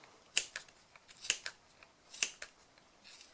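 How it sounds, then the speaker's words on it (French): Scissors snip through a wool pompom in four or five quick, crisp cuts spaced about a second apart, close and clear against a quiet room. "On passe ensuite à la découpe du pompon."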